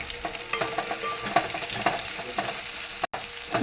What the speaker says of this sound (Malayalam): മമ്മി ഉള്ളി മുളകൊക്കെ ഒന്ന് തളിച്ചു അത് കഴിഞ്ഞ് അതിലേക്ക് കുറച്ച് കുരുമുളക് കുറച്ച് മമ്മിയപ്പൊടി ഇത്രയും മൂപ്പിച്ചെടുത്തു